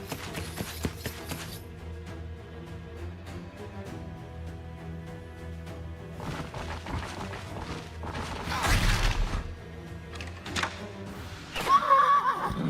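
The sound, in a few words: horse neighing in the video game Wartales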